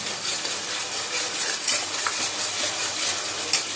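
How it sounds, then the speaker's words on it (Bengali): Spice masala sautéing in a pan for katla fish curry, a loud continuous sizzle with occasional spatula scrapes close up. "এবার এই মশলাটা একটু ভালো করে কষাবো"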